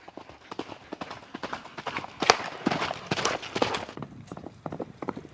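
A horse's hooves clop in a quick, steady rhythm during Yabusame mounted archery, the rider at speed, the footfalls fairly close with a few sharper louder strikes in between.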